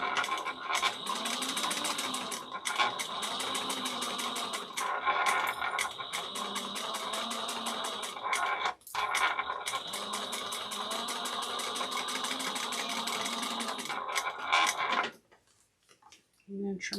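A sewing machine runs a quarter-inch backstitched seam through fabric for a small box tote bag, giving a steady, close, rapid mechanical whirr with a brief break partway through before it stops near the end.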